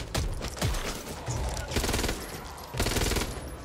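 Bursts of automatic gunfire from a bot in the zombie shooter Back 4 Blood, three loud sustained volleys of rapid shots with brief gaps between them, close and dense, with no talk over them.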